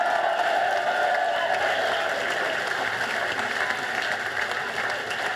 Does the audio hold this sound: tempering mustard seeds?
no